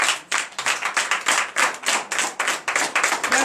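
Several people clap together in a steady, fast rhythm during a morning church prayer in Benin, loud and close, with the claps running continuously.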